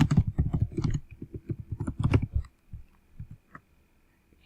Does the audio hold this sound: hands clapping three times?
no